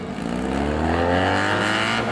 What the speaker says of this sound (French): Procédure de départ enclenché. Le départ est donné.